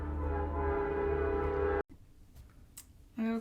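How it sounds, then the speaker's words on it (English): A passing train rumbles loudly and steadily for nearly two seconds, then cuts off sharply, leaving quieter rail noise with scattered clicks and a brief higher tone near the end. "I'm gonna pause because I'll let the train go by."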